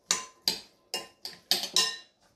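A utensil clinks against a bowl while tabbouleh salad is tossed with olive oil: six sharp, close knocks in quick, uneven succession, with no talk.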